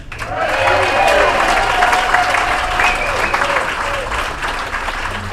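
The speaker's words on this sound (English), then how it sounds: "how about a round of applause for your master of ceremonies? Let's hear it for Keith." An audience of Elks lodge members at a comedy show applauds the master of ceremonies, a dense steady wash of clapping from a moderately sized crowd with a voice speaking over it.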